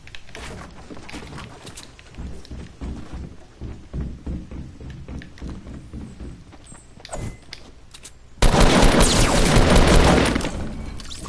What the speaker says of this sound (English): I'm shooting at him on the freaking shield